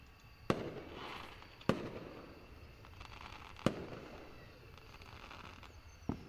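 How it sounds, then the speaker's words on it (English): Fireworks bursting in the game Angels with Scaly Wings: four sharp, loud pops spaced a second or two apart, each trailing into a crackling, rumbling tail over a steady background hiss. "Aha, and then the fireworks are back."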